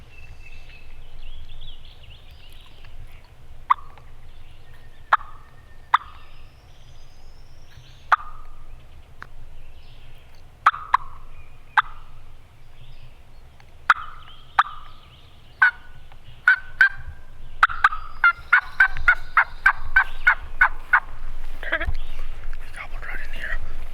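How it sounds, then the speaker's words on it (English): An eastern wild turkey gobbler in the woods gobbles repeatedly from some distance, a dozen or so rattling bursts spaced a few seconds apart, while a hunter whispers nearby. "he started gobbling on his own over here"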